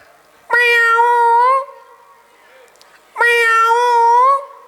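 A comedy mimicry artist voices a cat's meow, giving two long, drawn-out wavering meows separated by a short quiet pause, loud and close.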